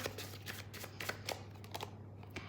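Tarot cards are shuffled close up, giving soft, quick riffling and flicking sounds in uneven bursts at low volume with no speech.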